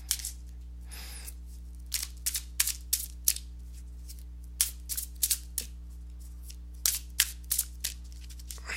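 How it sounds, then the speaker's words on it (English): Tarot cards being shuffled by hand: a series of short, crisp riffling bursts come in irregular clusters over a steady low hum, close and fairly loud, with no talking. "So let me go ahead and give these cards a shuffle"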